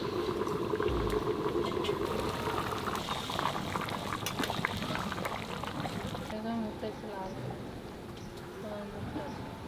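Hilsa fish curry simmers in a pot, with a steady bubbling boil running throughout and a few brief clinks and knocks; the bubbling becomes thinner and quieter partway through as the lid comes off.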